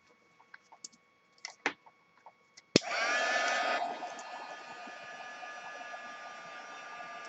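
A hair dryer switches on abruptly with a sharp click and blows steadily at close range, drying ink on deli paper for a craft project, after a few scattered soft taps and clicks.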